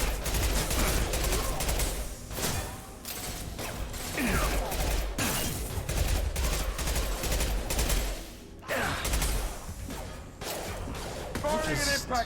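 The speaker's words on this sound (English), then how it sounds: "Firing an impact shot." Video game gunfire in Mass Effect 2, rapid bursts of automatic weapon fire with mechanical clatter and impacts, loud and nearly continuous, with brief lulls and talk mixed in.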